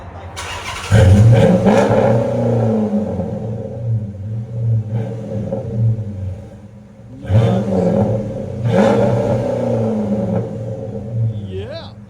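A 2005 Dodge Magnum RT 5.7L V8 with Flowmaster Super 10 mufflers revs hard twice with a deep, throaty exhaust rumble, settling into a low burbling idle between bursts.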